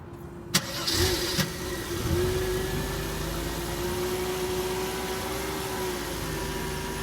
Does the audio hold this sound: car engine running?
yes